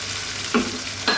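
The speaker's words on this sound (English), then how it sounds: "You need to cook that sauce nicely, that tomato sauce" Mushroom, bell pepper and tomato sauce cooks over low heat with a soft continuous bubbling hiss, broken by two brief spoon taps close by.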